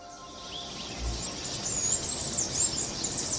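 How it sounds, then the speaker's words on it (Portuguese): Birds sing and chirp high in the Amazon rainforest canopy, a thin continuous layer of calls over a dense, steady insect-like background hum, moderately distant. "O canto das aves ecoa pelas copas das árvores."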